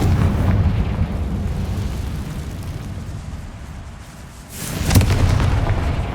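Bombarda and Confringo spells go off in Hogwarts Legacy, producing a loud rumbling blast that swells and fades, then a second sharp explosive burst near the end.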